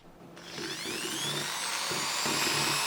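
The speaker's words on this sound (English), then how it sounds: "I was having a little trouble drilling the pipe, because well, it's a pipe" A handheld drill bores holes through a metal pipe held in place, giving a steady high whine with rising harmonics that runs continuously and fairly loud after a brief start, with faint low clunks underneath.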